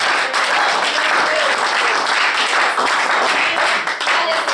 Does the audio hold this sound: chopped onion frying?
no